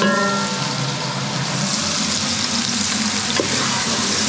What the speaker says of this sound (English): pan fry this